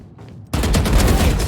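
Rapid gunfire in a video game bursts in loud and dense after a short quiet lead-in, a sustained volley of overlapping shots that carries on to the end.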